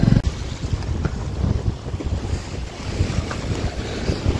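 Sea waves washing over a flooded coastal road with the sea on both sides near a temple at Edavan, heard as a steady surf roar under heavy wind buffeting the microphone.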